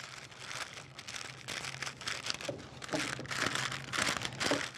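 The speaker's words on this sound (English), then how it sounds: "you're just gonna use the parchment and you just press this out" Parchment paper crinkles and rustles continuously as it is pressed down over a cranberry bar crust in a tray, with close crackling bursts that swell and fade with each push.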